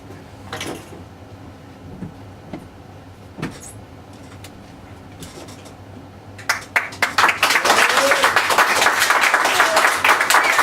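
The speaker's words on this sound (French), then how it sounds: "je vous demande de faire un énorme tonnerre d'applaudissements pour les comédiens" A theatre audience breaks into loud sustained applause for the actors after a few scattered bumps and knocks over a quiet hum, the clapping swelling to a dense roar in the last few seconds.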